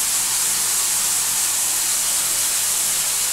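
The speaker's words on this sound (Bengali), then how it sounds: "এটা এখন একটু ভালো করে ভাজবো।" Eggplant and shrimp frying in a pan with turmeric and Kashmiri chilli powder give a steady, loud broadband hiss that holds unbroken throughout, with no voices over it.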